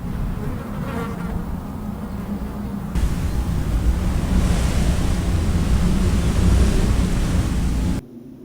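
Ocean waves at the seaside wash in as a dense, continuous roar that swells louder midway and then cuts off abruptly near the end, with no voices.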